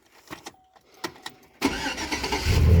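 Truck engine cranks over with a few clicks and short bursts, then catches and roars into a loud, steady idle that swells toward the end.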